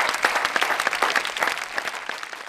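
A studio audience at a comedy show breaks into brisk applause, many hands clapping close and lively for a couple of seconds without speech.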